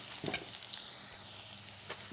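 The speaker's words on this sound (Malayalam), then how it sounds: "ബാക്കി സാധനങ്ങളെല്ലാം ഈ എണ്ണയിൽ തന്നെ വറുത്ത് കോരണം" Steady crackling sizzle of hot oil deep-frying Kerala mixture snacks, with brief clinks of a utensil; fairly quiet and close.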